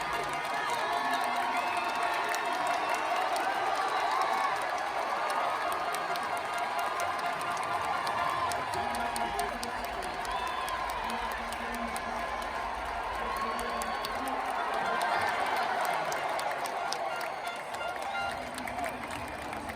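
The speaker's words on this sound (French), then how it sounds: "la foule était toujours là pour pousser Gabriel Tual lors des séries du 800 mètres" A large stadium crowd cheers and roars continuously for a runner in the 800 m heats of the Paris 2024 Olympic athletics, a dense sustained wash of voices and whoops throughout.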